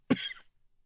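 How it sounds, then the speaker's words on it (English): A man coughs once, close and sharp, after swallowing a gulp of liquor, the harsh burst trailing off into a short rasp within half a second. "He coughs and holds his side."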